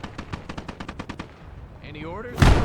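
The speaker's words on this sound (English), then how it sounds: "I'm going to try and lob a few grenades, see if I can get some cheap kills" Gunfire in the World War II game Gates of Hell Ostfront: a rapid, fairly loud string of about a dozen evenly spaced shots, a short whistling sweep, then a heavy grenade blast at the end.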